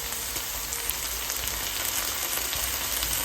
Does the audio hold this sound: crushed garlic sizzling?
yes